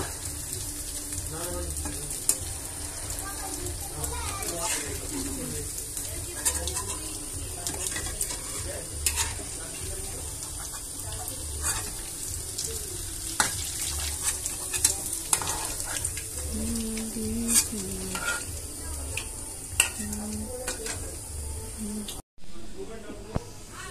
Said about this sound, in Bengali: আমার পাকোড়াগুলা দেখতে পাচ্ছেন লাল লাল করে ভাজা হয়ে গেছে